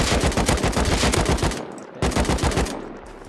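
Automatic gunfire from the video game Rust fires in two rapid bursts, loud and close, with a short gap between them and a fading tail after the second.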